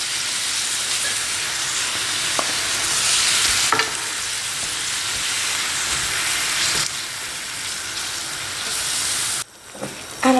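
Grated tomato sizzles and hisses steadily in a hot pan and is stirred now and then. The frying noise is loud and continuous, with a few scraping clicks, and it drops out sharply near the end.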